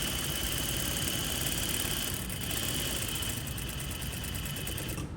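Sewing machine running an edge stitch along boning fabric, a continuous mechanical whir with fast rhythmic needle chatter, steady throughout and fairly quiet.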